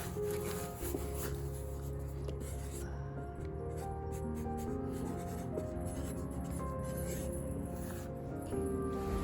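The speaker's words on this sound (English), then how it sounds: "And then we'll write onions in there." Pen or marker writing a label on a homemade mini greenhouse for winter sowing, a soft steady scratching close by with light rubbing, continuing without a break under low room noise.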